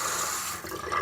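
Water from a newly installed bathroom faucet runs steadily into the sink and fills it, a continuous near hiss and splash with no voices.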